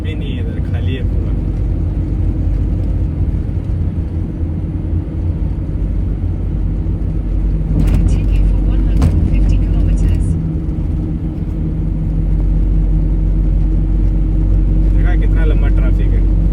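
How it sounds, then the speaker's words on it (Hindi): Road traffic backed up at a German border control, a steady loud engine rumble and road drone throughout with occasional brief higher passing noises, people talking over it. "कितना लंबा ट्रैफिक है"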